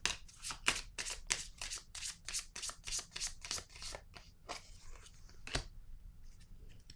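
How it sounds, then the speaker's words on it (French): Tarot-style cards are handled and laid out, a long run of quick crisp papery flicks and riffles at close range, ending with a single snap of a card being set down. "Ici, je vais déposer une carte sur la bibliothèque."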